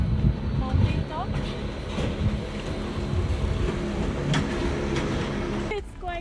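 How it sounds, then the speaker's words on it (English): Gornergrat mountain cog railway train at the summit station, a steady rumbling hum with faint squeals and clatter, a voice talking over it and a brief distant whistle-like tone near the end. "So this is the train which we took to come up the Gornergrat mountain top."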